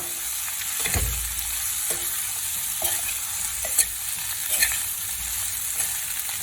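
Boiled potato pieces and green chillies are stirred together in a hot pan for dry aloo peas masala sabji, with a constant bright sizzling hiss and soft periodic scrapes and taps from the stirring spoon.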